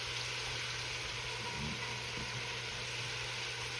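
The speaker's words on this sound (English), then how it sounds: "I'm going to saute this around, throw a little garlic in here, get it all sauteed around" Bell peppers and onions sauté in a pot for soup, giving a steady, soft sizzle that continues evenly without pause.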